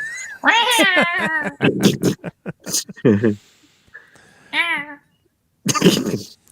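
A cat meows several times, close and fairly loud, with rising and falling calls spread between stretches of people talking.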